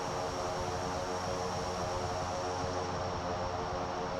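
The Cessna SkyCourier, a twin-turboprop, in Microsoft Flight Simulator 2024 roars steadily in reverse thrust after landing, a loud, dense, even propeller and engine noise with no pauses.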